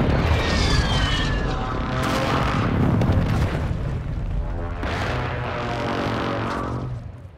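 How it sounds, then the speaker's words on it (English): Airstrike explosions tear through a Call of Duty MW2 multiplayer match, a loud, sustained rumbling barrage with heavier blasts swelling around the middle and again later before fading out at the end. "now that those airstrikes are gone, push forward"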